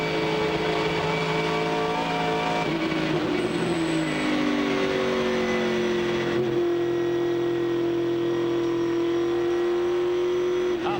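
A Ford V8 Supercar engine roars and accelerates loudly at Phillip Island in a 2002 race, its pitch climbing and shifting through gears as it powers along, with no voices over it.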